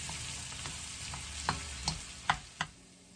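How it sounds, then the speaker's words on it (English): Shallots and garlic sauté in a pan with a steady low sizzle, while several sharp stirring scrapes and clicks rise clearly above it, all close and moderately quiet. "I'm actually going to saute these shallots and the garlic for probably 20 minutes"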